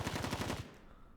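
Rapid automatic gunfire bursts out in the video game Blue Archive, a dense rattling volley lasting about half a second before cutting off into quiet room tone.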